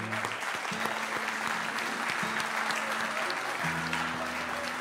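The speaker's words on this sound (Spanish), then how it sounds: "queríamos no aplaudir a los niños, sino aplaudir a los adultos que trajeron a los niños al evento cultural" Audience applause at a cultural event show, steady continuous clapping from a crowd at moderate distance, with sustained low tonal music underneath.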